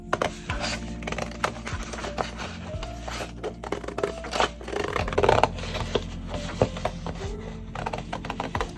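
Scissors or a blade cutting out a drawing on poster board for a light-up Christmas rug decoration, giving a run of close, irregular snipping and scraping crackles over a low steady hum, with no talking.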